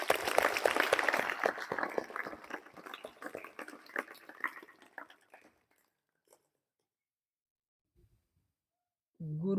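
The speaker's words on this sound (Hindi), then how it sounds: "एक बार हम सभी उनको धन्यवाद दें तालियों के माध्यम से" Audience at a yoga and meditation gathering clapping in thanks to a guru, a dense burst of claps that thins out and fades to silence after about five seconds, with a brief noise near the end.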